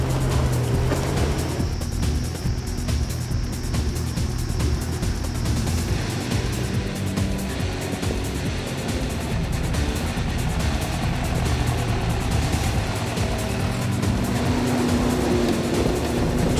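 A 1991 Land Rover Discovery with a 2-inch lift, dual lockers and 33-inch Silverstone tyres drives off-road, its engine a steady, close drone with broad rumble that runs unbroken throughout.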